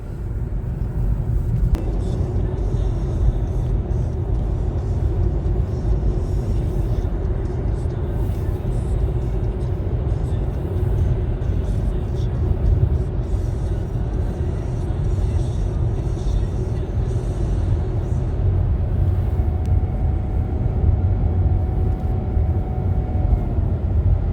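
Volkswagen e-Golf 35.8 kWh electric car cruising at about 110 km/h on a highway, a steady loud low road and wind rumble heard from inside the cabin throughout.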